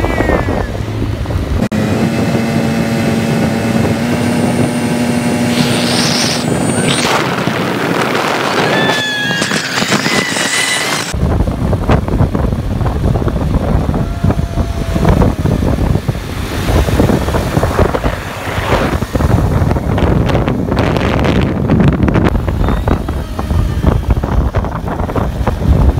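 A Hero Splendor motorcycle rides through hilly country on the way to Manikaran, its engine drone buried under loud, continuous wind roar on the microphone.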